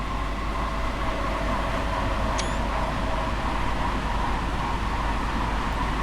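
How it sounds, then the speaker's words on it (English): A steady, loud rumble of trains rolling past in Train Sim World 2, constant and continuous throughout, with a brief high squeal partway through. "let's watch these trains as they pass"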